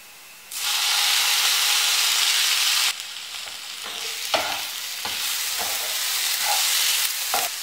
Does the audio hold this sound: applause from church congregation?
no